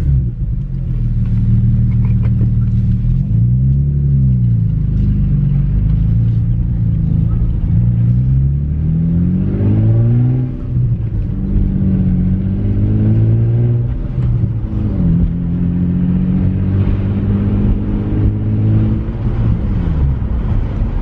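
A Nissan 350Z fitted with a Torque Solutions short shifter accelerates along rural straightaways, its engine droning loud and close as revs climb and drop repeatedly through quick gear changes.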